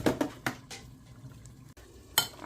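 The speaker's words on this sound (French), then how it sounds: "Et je vais venir bien mélanger tout ça." A spoon knocks and scrapes against a pot while okra sauce ingredients are stirred together, giving several sharp clatters spaced around fairly quiet pauses.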